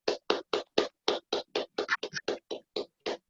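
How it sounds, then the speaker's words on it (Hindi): A meditation session audience claps in loose unison, a run of crisp, fairly regular claps that briefly turn ragged and uneven before settling again, close and unaccompanied by voices. "जोरदार तालियां. तालियां,"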